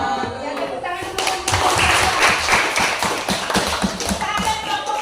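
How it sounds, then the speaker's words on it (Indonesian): Applause from a classroom audience after a group presentation, a steady patter of many hands clapping close by for several seconds, rising to a dense peak midway then thinning, with faint voices underneath. "Yang tepuk tangan dulu."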